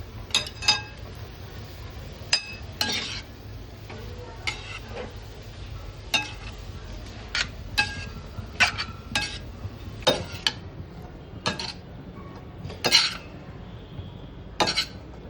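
Instant noodles with Maggi masala being stirred and mixed in a pan: irregular metal clinks and scrapes of a utensil against the pan, steady and close, with no talking.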